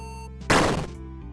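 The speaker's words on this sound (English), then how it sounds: "He stabs you." A single heavy, thudding hit lands over a steady game music drone, a brief dense burst that quickly dies away.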